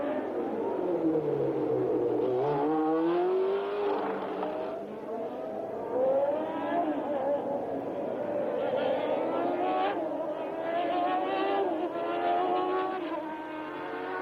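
Formula 1 race cars at the 1982 Detroit Grand Prix, including one running with bent front suspension, drone steadily with rising and falling engine pitch throughout, with commentary voices over the top.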